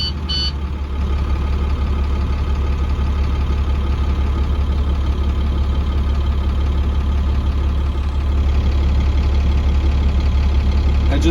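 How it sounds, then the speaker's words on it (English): A truck's diesel engine turns over about a second in and settles into a steady, deep, even idle that runs unbroken for ten seconds, with no talking. "Now I'm going to turn the engine on and listen for any"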